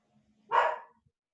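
One short, sharp bark from a dog indoors at home, moderately faint and isolated against near silence.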